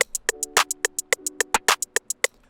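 Programmed hip-hop drum pattern where a rim hit lands just before the second clap, over steady hi-hats and a soft bass tone; crisp, evenly spaced hits, loud and unaccompanied by speech.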